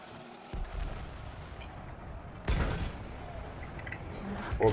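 Two heavy mortar cannon shots boom out in the Battlefield 1 video game, each a sharp, loud blast a couple of seconds apart over a constant bed of battlefield rumble and distant gunfire.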